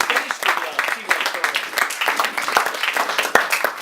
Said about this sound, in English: we need a little applause for these guys